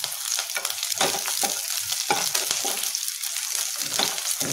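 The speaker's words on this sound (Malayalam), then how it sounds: "അപ്പോൾ ആദ്യം ഇങ്ങനെ വെളുത്തുള്ളി ഒന്ന് ഫ്രൈ ആക്കുക, കൂട്ടത്തിൽ നമുക്ക് പച്ചമുളക് ഇടാം" Garlic and green chillies frying over a high flame for a honey chilli potato starter, giving a loud, continuous close sizzle broken by rhythmic scraping strokes of a spatula.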